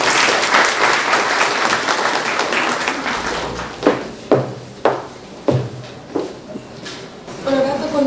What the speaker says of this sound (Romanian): Să o aplaudăm ca să o încurajăm.